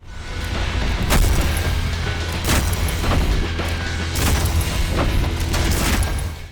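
Dense, sustained gunfire and booming explosions from the fast-paced shooter game Ultrakill, with repeated heavy blasts roughly every second over a continuous loud, rumbling bed of shots at point-blank range.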